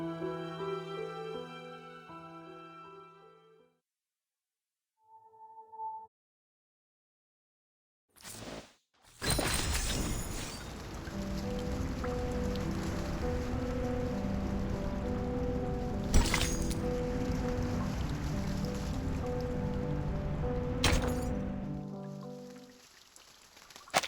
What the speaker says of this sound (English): It's the rain! It's raining outside!